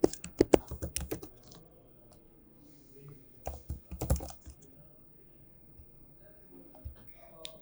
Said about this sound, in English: Type the email address of the lead